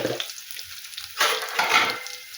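Spices sizzling in a hot pan as turmeric is tipped in, a steady crackling fry that swells louder midway with stirring, close and with no talk.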